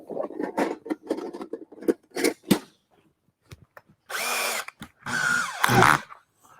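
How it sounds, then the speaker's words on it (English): A power drill bores a half-inch hole into a wooden board in a woodworking shop, two loud sustained whirring bursts near the end, after a stretch of tool handling and knocks. "So I need to drill a 1/2 inch hole."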